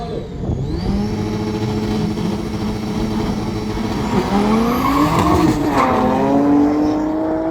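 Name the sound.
race cars drag racing, including Audi S9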